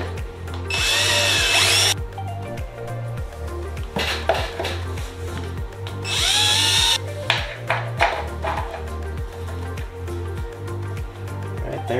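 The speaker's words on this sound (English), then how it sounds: "So I'm gonna go ahead and pull out the center one here and start drilling this up to a quarter inch." A power drill bores quarter-inch holes through the mated main spars of a Sonex aircraft kit, loud whining bursts near the mic, stopping and restarting several times with metallic clatter between runs.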